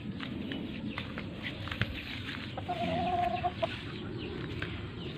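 Chickens on a farm clucking and calling in a steady low murmur, with a brief louder cluck in the middle and faint footsteps or scratching underneath, and no talking.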